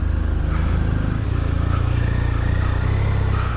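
A BMW R1250RS TE motorcycle pulls away, its boxer engine thrumming loud and close with a low, pulsing rumble that rises slightly as it accelerates.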